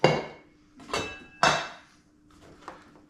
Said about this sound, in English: Get these spuds, hang them in here.